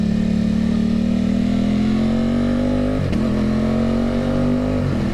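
An Aprilia Tuono 660 motorcycle fitted with an aftermarket eBay exhaust accelerates hard, its steady loud engine note climbing in pitch, dipping briefly at a gear change, then rising again, heard close up with no talking.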